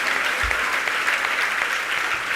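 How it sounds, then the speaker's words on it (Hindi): Thick, sustained clapping from a big audience at a religious gathering in Jharkhand fills the whole moment, loud and even, with a few heavier thumps near the front. "आपकी तालियां इनका सम्मान कर रही हैं।"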